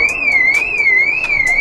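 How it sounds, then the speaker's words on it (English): A car alarm wails nearby with a loud, steady warbling tone that sweeps up and down in a regular cycle, punctuated by brief sharp chirps. "my alarm came off, y'all."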